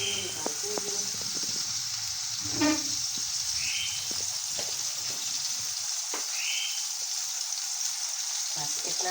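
Cumin seeds sizzling in hot oil for a chickpea chaat, a steady bright frying hiss that holds throughout, with someone talking over it and a few small clinks.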